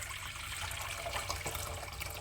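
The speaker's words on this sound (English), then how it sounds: "I've boiled a kettle of water, so let's add in the water for the mac to cook." Boiled kettle water pours steadily into a pot on a stovetop for cooking macaroni, a continuous close splashing rush of liquid lasting a couple of seconds with no voices.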